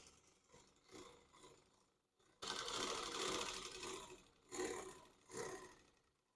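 A 95-T10 model sewing machine stitches cloth piping, running in bursts: a soft start, then a long loud run and two shorter close whirring passes with brief pauses between.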